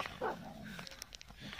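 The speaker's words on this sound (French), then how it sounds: "Il grogne après, mais il lui fait rien, quoi." A young dog lets out a few quiet barks and yips close by, a short sharp burst first and then softer whimpering and growling noises, all faint, with no one talking.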